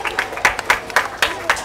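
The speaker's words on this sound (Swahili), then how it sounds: "Naomba mjipigie makofi" Students clapping at a Standard Seven primary school graduation ceremony, several short bursts of applause rising and falling at a steady rhythm, fairly close, with voices mixed in.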